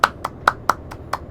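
Six sharp hand claps ring out in a steady, evenly spaced rhythm, each crisp and close, with nothing else sounding between them.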